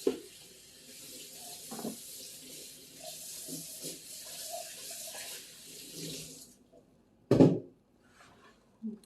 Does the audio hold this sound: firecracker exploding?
no